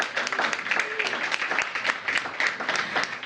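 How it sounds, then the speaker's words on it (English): Audience applause at a DC public event launching a Text to 911 service, a dense, steady patter of many hands clapping that fills the space at moderate volume, with a faint voice mixed underneath. "Please give them a round of applause."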